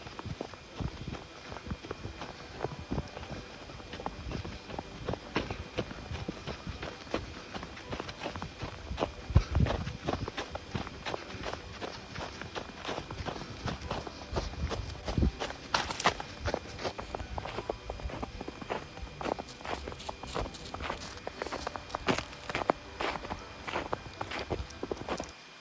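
Running footsteps crunch through fresh autumn snow, a steady rhythmic patter of footfalls close by, fairly quiet and continuing throughout with no talking.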